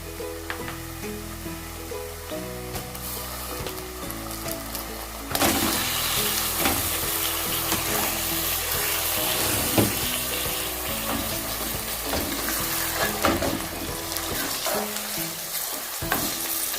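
Sizzling of about 1 kg of mutton as it hits a pot of sautéed onions for matka gosht kunna, a steady loud frying hiss with stirring and clattering throughout, intensifying after the meat goes in.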